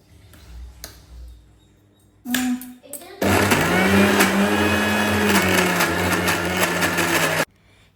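A mixer grinder churns cream into butter for making ghee, starting with a brief burst, then running loud and steady for about four seconds before cutting off abruptly, with faint voices before it starts.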